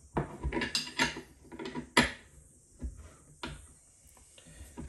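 A wrench grips and loosens the stone on a Tormek T4 sharpener, making close metallic clanks and knocks clustered in the first couple of seconds, then sparser clicks, with no talking.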